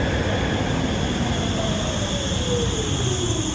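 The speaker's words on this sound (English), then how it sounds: "Quite big trains, aren't they, Paul?" Large Düsseldorf U-Bahn trains rumble through an underground station, with a steady loud roar, a faint high whine and squealing wheels gliding overhead.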